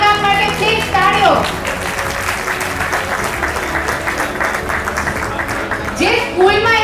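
An audience applauds a charity worker at a family honour event, dense sustained clapping from a crowd, loud and close, with voices talking over the start and end.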